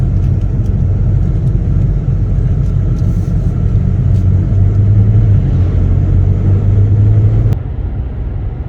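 BMW E92 335i driving on a road on the Isle of Wight after front brake work, a continuous loud low engine and road rumble that drops off abruptly near the end as the car slows.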